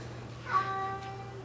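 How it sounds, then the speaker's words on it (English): A house cat gives a single drawn-out meow, faint and a little distant against a quiet room hum, with no talk over it. "sorry if you hear my cat meowing."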